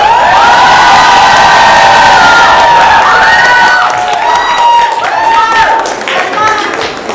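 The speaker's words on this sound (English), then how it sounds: "bigger round of applause than that" A large Bay Area crowd at a Bollywood stage show (the Dabangg tour) cheers, screams and applauds loudly and continuously, with high shouts and whoops over the clapping, easing slightly toward the end.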